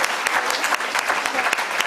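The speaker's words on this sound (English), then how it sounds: "We must clap for him." An audience at a women's leadership conclave in Indore claps, a dense burst of applause with quick irregular hand claps, close and fairly loud.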